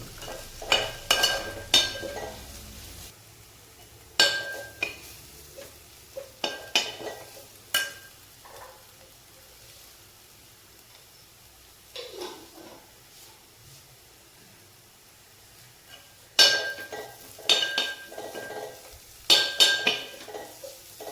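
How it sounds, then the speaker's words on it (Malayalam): A spoon scrapes and clinks in a pan as chickpea masala is stirred with chili powder and a green chili for kadala varattiyathu; irregular bursts of metallic stirring separated by quiet pauses, close by. "പൊടി ചേർത്ത് ഒരു പച്ചമുളക് പോകണം ഇളക്കി കൊടുക്കുക"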